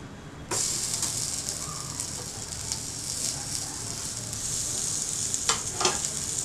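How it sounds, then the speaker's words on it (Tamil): Three pieces of elephant foot yam frying in oil, a sizzle that starts abruptly and then holds steady and close, with a few sharp crackles and spatula clicks near the end and no talking. "இது நம்ம எண்ணெயில் ஃப்ரை பண்ணுவோம்."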